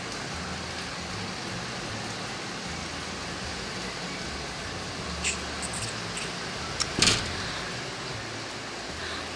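Heavy rain falling outside, a steady dense hiss of drops that holds evenly throughout, with a few faint brief knocks and clinks partway through.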